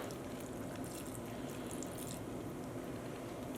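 Dye liquid poured onto cotton yarn in a bag, a soft continuous watery splash and trickle with steady hiss, close and fairly quiet, no talking.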